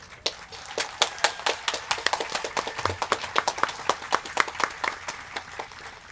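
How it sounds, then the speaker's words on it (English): A modest crowd at a Teachers of the Year ceremony applauds the early childhood honorees. The claps are distinct and sharp, coming quickly but unevenly in a light, sparse round that thins toward the end. "Please join me in a round of applause for our Early Childhood Teachers of the Year"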